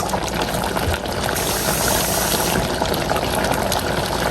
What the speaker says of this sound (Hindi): इसमें थोड़ा सा पानी डाल दें।